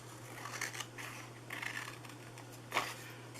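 Scissors cut paper for a small chocolate treat bag in a few short snipping bursts, close and fairly quiet, with a steady low hum underneath.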